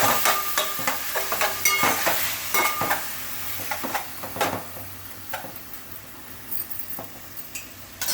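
Curry is stirred in a pot after salt goes in, a close, continuous scraping and stirring with light sizzling and occasional clinks of the spoon against the pot.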